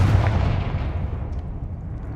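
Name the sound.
Confringo fire curse explosion in Hogwarts Legacy video game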